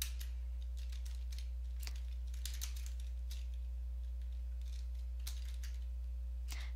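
Computer keyboard typing on a desk: irregular bursts of light clicks and key taps across the whole stretch, close and fairly quiet, with a steady low electrical hum underneath and no talking.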